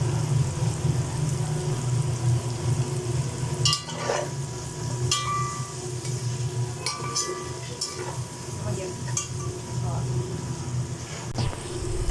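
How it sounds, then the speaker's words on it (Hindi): Chicken frying in ghee and oil for restaurant-style Chinese fried rice: a continuous bubbling sizzle with occasional clinks of a utensil against the pan, under steady talk and a low hum. "अब बबल्स आ रहे हैं घी के अंदर, इसका मतलब है कि लाल होना शुरू हो गया चिकन।"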